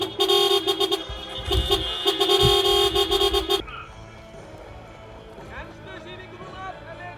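Car horns honk repeatedly and loudly at a horse-riding event, sounding in the first half of the clip over crowd noise before dropping to quieter ambient sound with voices.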